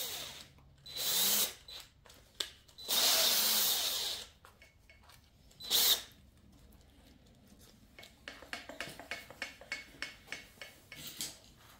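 A power drill whirs in several short bursts into a head bolt hole on a C5 Corvette LS6 engine, the longest lasting over a second, then a run of quick light taps and clicks follows.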